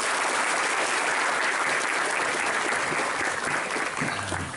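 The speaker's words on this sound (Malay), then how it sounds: "Terima kasih, tepuk tangan semuanya." Dense, steady audience applause fills a hall at a Pancasila ideology school event in Purwakarta, loud and sustained throughout, with a faint murmur under it and a low voice entering near the end.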